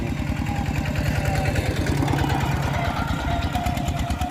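A tractor engine idles in a rural Thai village, a steady, close, rhythmic knocking chug that continues without a break.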